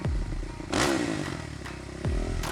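A motorbike kicks into life in an audio drama, sounding as a low engine rumble with mechanical clatter and two surges of revving, fairly close and with no voices over it.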